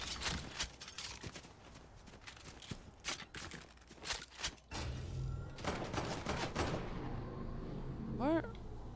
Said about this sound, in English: Who is shooting at me and I can't see them?